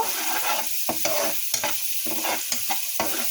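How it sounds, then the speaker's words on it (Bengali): Fish cooking in spice paste in a frying pan, a close sizzle broken by repeated scraping stirs of a spatula, loud and steady with no voices. "এখানে এই যে আমি মাছটা রান্না করার জন্য মশলাটা কষিয়ে নিয়েছি এখানে হচ্ছে আমি মাছটা দিয়ে দিব"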